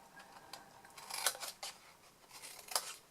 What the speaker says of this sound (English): cut those little notches out